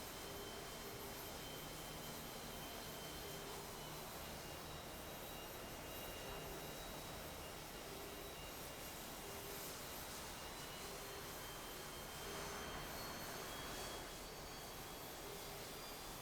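JAS 39C jet engine idling while taxiing in a flight simulator game, a steady low roar with a constant high whine and faint intermittent beeps, unchanging throughout.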